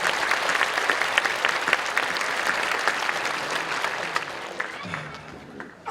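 A church congregation claps to welcome guests at a 50th anniversary dedication thanksgiving service, sustained dense applause that fades out near the end.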